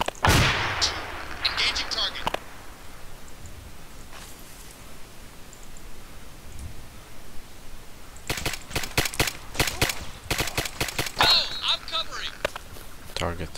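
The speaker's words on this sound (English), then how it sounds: "Grenade." Grenade explosions and gunfire in a military shooter video game. A loud blast opens the clip, followed by a quieter stretch, then rapid bursts of shots around the middle and later, with voices in the background.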